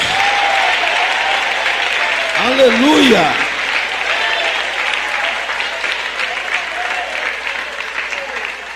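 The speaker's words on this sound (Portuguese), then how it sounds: "Isto, palmas misturado com glória a Deus." A church congregation claps steadily and loudly throughout, with a voice calling out praise over the applause partway through.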